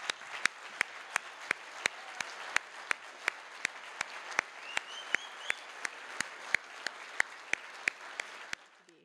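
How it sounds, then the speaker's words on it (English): Sparse, slow clapping for nursing graduates at a pinning ceremony, a few hands striking in a steady, evenly spaced rhythm over a quiet room, faint and somewhat distant, with a faint voice drifting through. "I'd like to have them just stand up for a minute and receive another round of applause"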